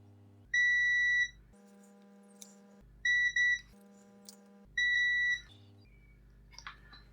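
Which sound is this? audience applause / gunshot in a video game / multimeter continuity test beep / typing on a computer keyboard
multimeter continuity test beep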